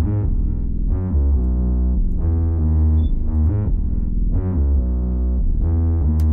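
Deep, pitched bass from a trap-style FL Studio beat, playing a loud, continuous melodic line of sustained low notes with rhythmic restarts, heard alone without talk.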